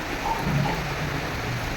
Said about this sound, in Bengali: আর এখন কি জোর বৃষ্টিটা হলো